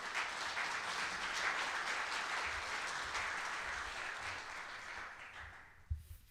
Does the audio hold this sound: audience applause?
yes